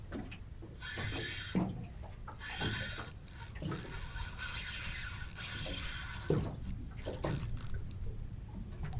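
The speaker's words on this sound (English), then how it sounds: "Peeling line." A fishing reel's drag ratchets as line peels out to a hooked flathead, a run of rapid clicking bursts broken by short pauses, close and fairly quiet, with no talk over it.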